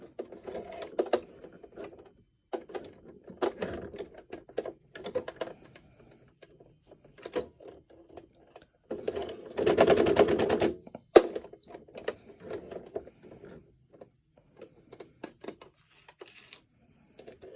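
Hand-cranked sewing machine back-stitching through five or six thick layers of flannel and Sherpa, heard as close, uneven mechanical clicks and thumps in short bursts with a denser whirring run midway, between pauses.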